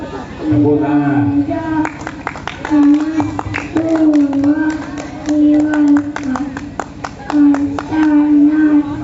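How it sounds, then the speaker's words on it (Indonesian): Hands clap in quick, scattered bursts at a kindergarten and primary-school speech contest, mixed with children's voices and chatter throughout. "Tepuk tangan."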